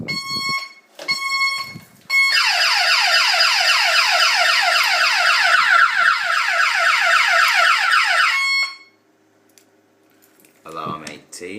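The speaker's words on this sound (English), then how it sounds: "if we go in here, the alarm will go off" A Menvier TS900+ intruder alarm, triggered by an office motion sensor, blares a loud, rapidly pulsing electronic tone continuously for several seconds after a few short beeps, then cuts off abruptly.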